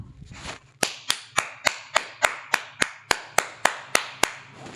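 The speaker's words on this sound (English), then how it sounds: "Let me actually clap for you real quick." A single person claps slowly and deliberately, about a dozen sharp, close, evenly spaced claps ringing out alone in a quiet room.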